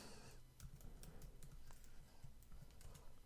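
Quiet keystrokes on a computer keyboard as a password is entered, a soft, irregular tapping that runs steadily through the short stretch with no talking.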